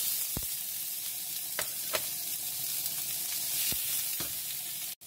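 Garlic and onion sizzle steadily in a hot pan for carbonara, a close, continuous hiss of frying with several brief scraping clicks of stirring scattered across it and no talking.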